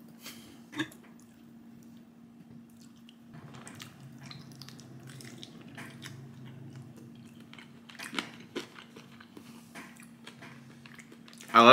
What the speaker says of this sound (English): I like when the bone is a little bit chewy, so I can just eat it.